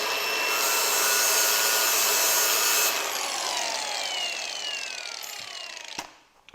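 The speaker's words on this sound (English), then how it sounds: "Let's grind on it a little bit." An angle grinder bites into a titanium pipe weld with a loud, steady high-pitched grinding whine for about three seconds. It then eases into a descending tone as the disc spins down, and a short knock follows near the end.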